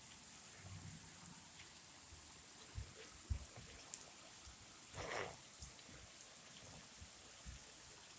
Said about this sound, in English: Did the rain stop or is it still going?